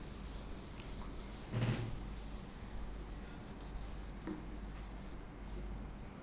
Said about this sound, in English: Let's erase question 2 also.